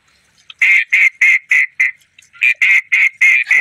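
A large duck quacking loudly and close, a rapid series of about a dozen harsh nasal quacks in two bursts, heard outdoors during a morning hunt.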